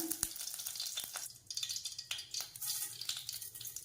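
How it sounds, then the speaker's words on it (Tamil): Mustard seeds in hot oil in a pan for a tomato-garlic chutney, heard as a faint crackling sizzle with scattered sharp pops and light clinks, with no voices. "இந்த எண்ணெய் காஞ்சதுக்கப்புறம் இதில் வந்து கடுகு வந்து போட்டுக்கிறேன்"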